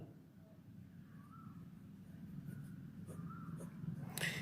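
A pen scratches softly across paper as figures are handwritten in short, faint strokes, very quiet against a low room hum.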